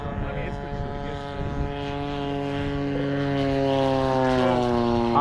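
Seagull P-47 Razorback RC model airplane flies with a steady propeller-engine drone that grows louder and slightly higher as it speeds past, with people talking over it.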